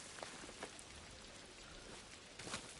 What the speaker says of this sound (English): Now all these raining sounds really doesn't help you